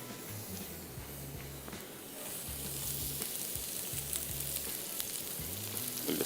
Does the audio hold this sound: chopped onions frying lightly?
yes